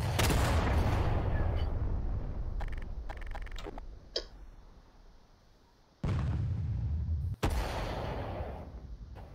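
Artillery shells firing in the Garry's Mod video game: a loud sustained barrage rumbles at the start and fades, then two sharp, abrupt booming blasts hit near the end, with no talking.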